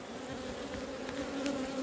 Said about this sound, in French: Ça c'est quand vous pincez une abeille. C'est la réaction. C'est une réaction normale.